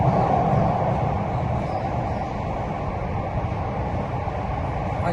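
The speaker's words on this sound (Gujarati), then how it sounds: "ફાઇનલ અમે બેસી ગયા મેટ્રોમાં." Inside a moving metro train, a steady, loud rumble of wheels and carriage noise continues without a break, with broad rushing sound throughout.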